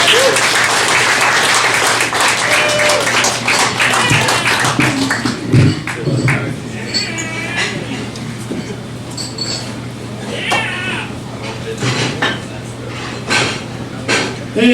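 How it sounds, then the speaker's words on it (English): A comedy-night crowd at a cafe applauds a comedian coming to the stage, loud sustained clapping with scattered whoops and cheers that gradually thins out, voices mixed in. "Make some noise for Steve Howze"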